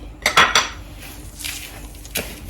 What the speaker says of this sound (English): You mix everything together.